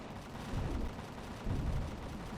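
Gunfire in the video game Empyrion Galactic Survival, muffled low booming bursts from a distance, two heavier thumping swells over a constant rumbling background.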